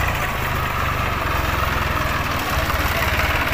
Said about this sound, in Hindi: पूरी तरीके से फंसा ये ट्रैक्टर, आप देख सकते हैं।